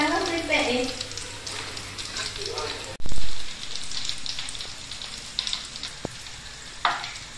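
Banana chips frying in oil while being stirred slowly, a close, busy sizzle and bubbling with a sudden loud thump near the middle, then scattered clicks of the utensil; a voice is faintly present underneath.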